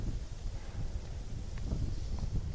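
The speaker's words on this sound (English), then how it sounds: "Here it's kind of always windy too." Wind blows across an open, exposed outdoor slope near distant forest, a steady low rumbling buffet with faint rustle throughout and no voices.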